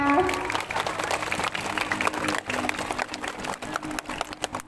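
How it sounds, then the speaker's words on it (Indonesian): Applause for class champions at an end-of-year report card ceremony in an elementary school, a dense patter of clapping with background music and voices mixed in throughout. "Tepuk tangan untuk para juara kita"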